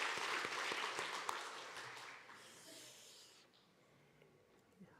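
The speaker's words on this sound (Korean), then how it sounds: "우리 두 분 장로님과 우리 집사님 고생하셨다고 박수 한번 주시죠" Church congregation at a New Year's Eve service gives a short round of applause, fairly faint and distant, tapering off after a few seconds into quiet room tone.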